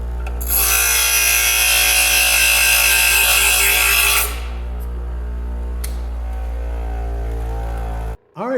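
Angle grinder or power grinder biting into the teeth of a steel saw blade, a loud, steady high-pitched grinding whine for about four seconds, then stopping with only faint ringing and a couple of light knocks after, no talking.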